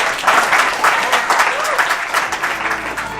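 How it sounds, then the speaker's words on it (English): A short burst of steady clapping from a small group at a presentation, even and sustained for a few seconds. "Round of applause, of course."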